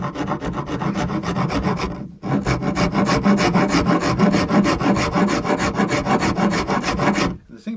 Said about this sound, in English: we have to revert to the rasp to get into this corner bit here.